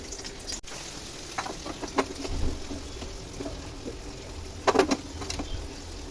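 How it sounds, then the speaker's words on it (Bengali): Onions fry in hot oil that still holds a little water, giving a faint, steady sizzle with a few soft clicks and pops scattered through it. "এখন পেঁয়াজটা ভাজছি।"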